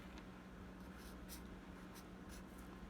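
A pen or pencil scratches out numbers on paper during a written addition of 24 plus 12, giving faint, soft strokes in short bursts over a quiet room hum.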